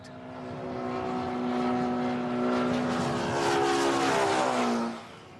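An airplane passes overhead near Hong Kong International Airport, its engine drone rising as it approaches and sliding lower in pitch as it moves away, fading at the end.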